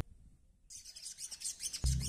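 A sogon songbird lets out a rapid run of high, bright chirps after a quiet start, close and clear, ending with a low thump.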